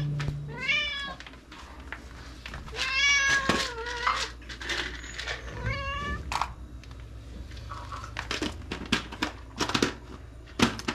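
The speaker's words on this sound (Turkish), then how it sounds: "kedimiz ağlıyor. Niye ağlıyor?" An impatient cat near a kitchen where soup is being made, meowing loudly several times in drawn-out rising cries, with clinking and tapping noises between them.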